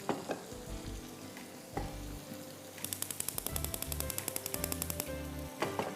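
Oil warms in a small frying pan, giving off a soft, steady sizzle with a few brief crackling bursts, all under background music.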